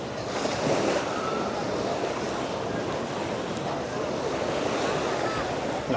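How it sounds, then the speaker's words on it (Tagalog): Strong ocean waves surging onto a beach on Boracay island, a dense continuous wash of surf with wind buffeting the microphone, loud and steady throughout. "Lakas ng alon."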